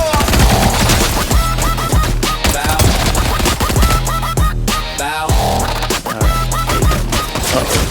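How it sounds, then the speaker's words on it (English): Heavy machine gun fire in the Bird Bros video game, loud rapid bursts repeating across the whole stretch under a driving musical soundtrack. "Let's do a little machine gun really heavy."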